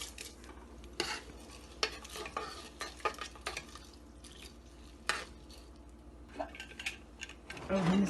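Washed masoor dal stirred into boiling water in a pot, with repeated light scraping and clinking of a spoon against the metal pot and a soft simmering bubble underneath.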